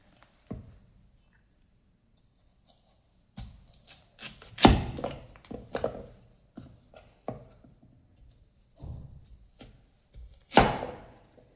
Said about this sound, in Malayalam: ഇനി നമുക്കിത് അരിയുന്നത് എങ്ങനെയാണെന്ന് നോക്കാം.